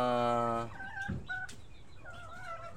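Chickens in a backyard coop cluck and call briefly, a loud harmonic crow-like note at the start followed by softer clucks and chirps nearby.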